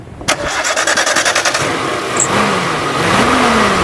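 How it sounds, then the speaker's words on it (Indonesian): A 2000 Suzuki Sidekick engine is cranked by its starter, a quick rhythmic chugging for over a second, then catches and settles into a loud, close idle that rises slightly in pitch. "Coba sekarang kita dengerin suaranya starter"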